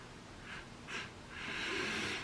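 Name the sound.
person sniffing a sneaker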